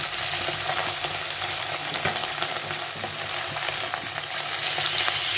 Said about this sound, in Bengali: আমি এখানে বড় চারটে মাছ ভেজে নেবো